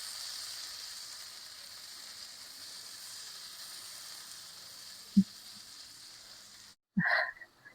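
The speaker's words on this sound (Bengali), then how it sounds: "ঝোল ফুটে গেছে," Pabda fish curry gravy boiling in a pan, a steady close sizzling hiss that holds on, broken near the end by a couple of sharp knocks and a brief louder clatter.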